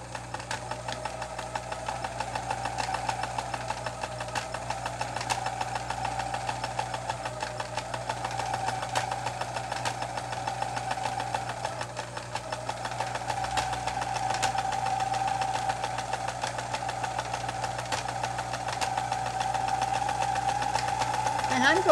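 A vintage Brother Pacesetter XL703 sewing machine runs steadily while sewing a wide stitch, its motor giving a continuous mid-pitched hum with a fine rapid needle rhythm and light mechanical clatter throughout.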